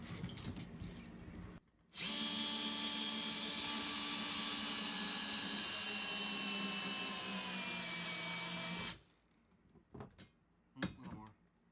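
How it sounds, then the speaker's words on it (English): Power drill run under heavy load while mounting a TV, its loud, steady whine holding for about seven seconds with the motor pitch sagging slightly as it strains, then cutting off to quieter handling noises and brief knocks. "We'll use the drill instead."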